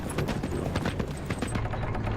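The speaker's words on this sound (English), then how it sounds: "Just a horse." A single horse's hooves clip-clop in a quick, irregular patter at moderate distance, over a low rumbling background with no talk.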